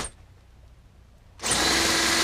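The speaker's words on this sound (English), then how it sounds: "I'm gonna start drilling" A power drill suddenly whines to life after a quiet moment and keeps running steadily at high speed, loud and close, drilling into aluminum on a 1973 Airstream Argosy trailer.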